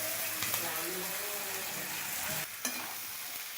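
Potatoes frying in oil in a pan for samosa filling, a steady loud sizzle throughout with brief stirring scrapes, and speech faintly audible underneath.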